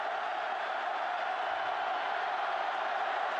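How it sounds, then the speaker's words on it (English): Crowd noise swells steadily at a college football game between Auburn and Georgia, a broad continuous roar of cheering fans from a packed stadium with no clear breaks. "Crowd coming to life on second down and four."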